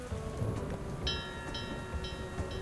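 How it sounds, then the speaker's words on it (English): A magic rain spell in Fields of Mistria starts as a steady soft hiss of falling rain, and bright chiming tones rise several times over it at regular intervals. "Let's make it a little rain"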